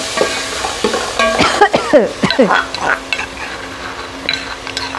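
Browned onions and masala frying and being stirred in a pot for a Pakistani daal chawal meal, a close steady sizzle broken by clattering spoon scrapes and stirring strokes.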